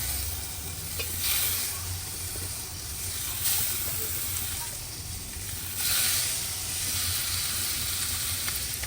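Steady sizzling of fish frying in hot peanut oil, a continuous crackling hiss with occasional louder bursts, fairly close.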